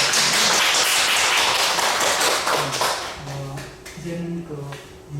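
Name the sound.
congregation applauding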